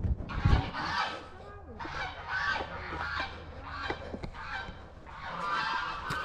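A domestic goose honks repeatedly in a rural garden plot, a series of nasal calls in uneven bursts at moderate distance, with other fowl faintly around.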